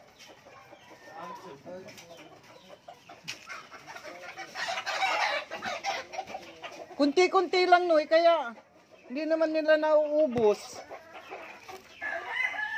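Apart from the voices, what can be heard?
chickens clucking while being fed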